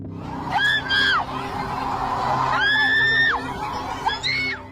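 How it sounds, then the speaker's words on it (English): A woman screams loudly outside a coffee shop, three long piercing shrieks rising and falling over a background of crowd noise and voices. "until loud shouts of a woman were heard"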